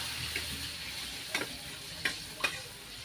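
Coconut milk goes into a pan of sautéed garlic and onion, giving a soft, steady sizzle. A few faint clicks of a spoon or ladle sound over it, with no voices.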